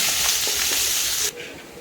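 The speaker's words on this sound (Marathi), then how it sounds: "आता कढीपत्ता टाकू, आपण कांदा परतून घेऊ" Onion and curry leaves fry in a pan with a close, steady hiss and sizzle that cuts off sharply near the end, leaving a quieter tail.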